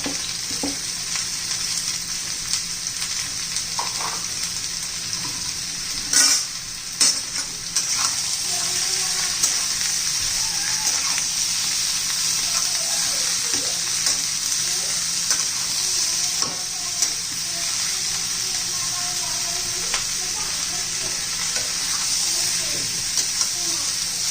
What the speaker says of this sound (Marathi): कांदा परतून घेणार आहोत दोन कांदे घ्यायचे